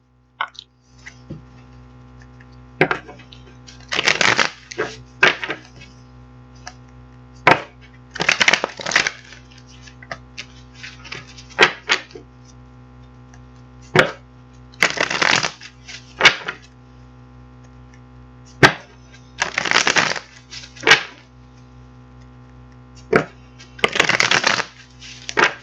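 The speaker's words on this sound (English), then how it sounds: "I'm going to get these cards shuffled up" Tarot cards being shuffled in several short riffling bursts, close and crisp, separated by pauses with occasional light taps and a faint background hum.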